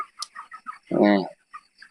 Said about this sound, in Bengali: আমি আরেকটা মুরগি আপনাদেরকে দেখাই